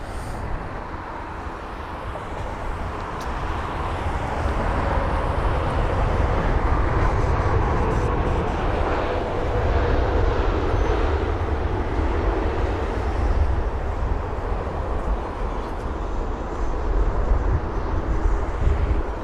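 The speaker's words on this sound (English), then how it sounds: "The 7 hour and 16 minute long journey on board the 787-8 Dreamliner aircraft" A British Airways Boeing 787-8 Dreamliner at Heathrow roars steadily as it passes, a broad continuous jet rumble that swells slightly after the first few seconds and holds loud to the end.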